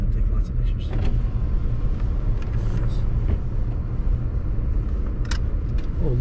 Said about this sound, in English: Now that car just went through here